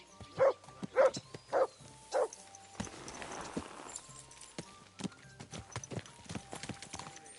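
Video game horse hooves clip-clop in a slow, even rhythm, followed by a rustling wash of movement and scattered light knocks.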